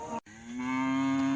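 A cow being loaded onto a trailer gives a long, loud, drawn-out moo that swells and holds steady, heard close by after a brief bump.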